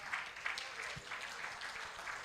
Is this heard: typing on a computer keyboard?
no